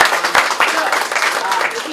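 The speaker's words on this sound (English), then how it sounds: "Give her a round of applause." Brief burst of audience clapping at a university innovation night, uneven and moderately loud with voices mixed in.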